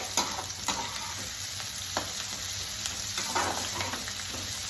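Onion frying and being stirred in a pan while making pasta, a steady close sizzle broken by repeated scraping strokes of the spoon, with no talking.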